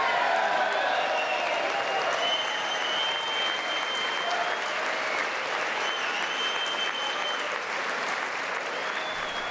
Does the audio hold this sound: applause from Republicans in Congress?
yes